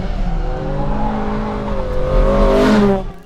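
A naturally aspirated BMW E30 M3 engine revs up loudly nearby, its smooth rising whine climbing in pitch and then dropping away abruptly.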